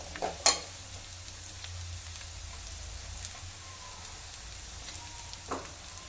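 Onion frying with ginger and garlic for a spicy chicken curry: a soft, steady sizzle close by, broken by a couple of sharp utensil clatters near the start and end, with no talking.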